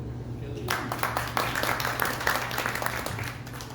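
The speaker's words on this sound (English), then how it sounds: "a round of applause for Kelly" An audience at a chamber of commerce breakfast applauds a speaker, a moderate patter of clapping hands rising after a brief quiet start and continuing steadily, with a low hum underneath.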